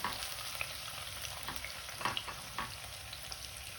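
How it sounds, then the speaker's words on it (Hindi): Chopped onions fry in a pan for an aloo baingan sabzi, giving a steady soft sizzle with a few light clicks and scrapes, fairly quiet and close, with no one talking. "प्याज को थोड़ा सा फ्राई करेंगे इसके अंदर"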